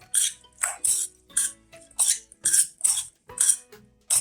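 Pesto chicken salad being tossed in a bowl with basil pesto sauce: about nine rhythmic, close, wet scraping strokes, each separated by a short pause, with no talking.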